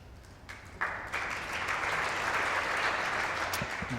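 Audience clapping at a lawn bowls match in the Scottish International Open, a short polite round of applause that swells after a soft start and holds steady, with faint background murmur.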